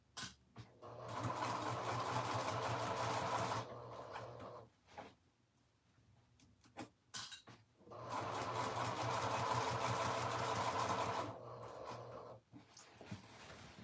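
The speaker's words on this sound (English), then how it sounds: "I'm almost done sewing the facing onto the bottom of the Anna dress." A sewing machine stitches the facing onto the hem of a dress in two long, steady motor runs, each lasting a few seconds, with short pauses between them. A dog pants nearby in the quiet gaps.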